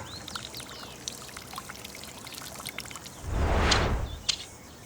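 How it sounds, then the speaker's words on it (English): Water is poured over a bromeliad mounted on a log, making a short gentle splash and trickle about a second long that follows quiet rustling in the garden, with faint birdsong behind. "Time to give it a little bit of water and then it's good to go."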